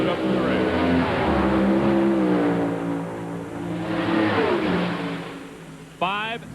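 An NHRA drag racing car makes a solo run at the 2000 Northwest Nationals, its engine roaring loud and steady with rising and falling pitch, then a sharp final rev near the end.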